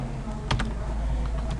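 Computer keyboard typing in a Windows Control Panel tutorial, a quick run of close, crisp key clicks over a steady low background hum, with no voice heard.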